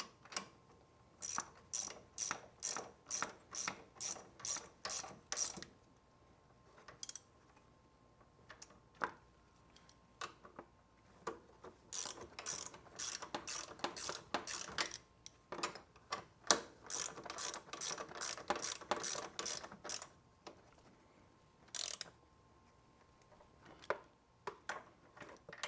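A ratchet tightens brake bolts on a Can-Am Outlander ATV, giving repeated bursts of fast, sharp clicking with short pauses between strokes, close and crisp in a quiet workshop.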